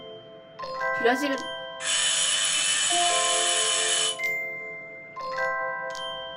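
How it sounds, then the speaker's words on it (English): A doorbell rings out in loud electronic tones, one long sustained buzz between shorter chimes, while a person speaks briefly at the start. "That was the doorbell."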